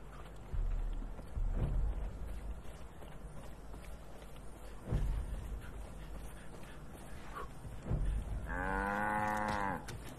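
A few soft thuds and footsteps, then a single drawn-out cow moo near the end, with a faintly synthetic, game-like quality, from the video game Far Cry 5.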